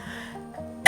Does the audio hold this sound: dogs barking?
no